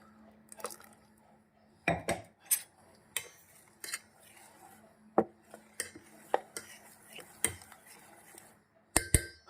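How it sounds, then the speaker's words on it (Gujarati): Mixed-bean batter stirred with water in a jug, giving scattered clinks and scrapes of utensil against vessel, sharp and moderately close, with quiet pauses between strokes. "જગના અંદર થોડું પાણી નાખીને હલાવી લીધો."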